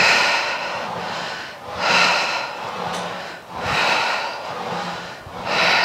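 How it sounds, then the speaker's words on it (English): Slow, deliberate breathing during a Pilates reformer workout, with long audible exhales and inhales alternating in a steady rhythm, close and fairly loud with no talking. "I'm exhaling out, inhaling back"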